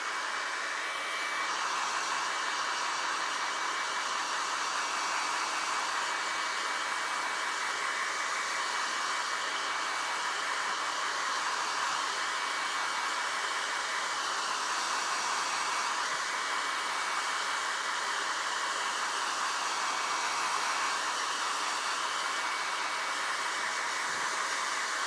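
A hair dryer blows steadily over freshly re-painted leather sneakers, making an unbroken, even rushing whoosh that runs close and loud for the whole stretch with no voices.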